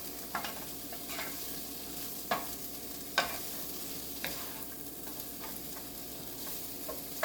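Breakfast frittata ingredients sizzling steadily in a pan, with occasional sharp clicks and scrapes of stirring, a soft continuous frying hiss throughout.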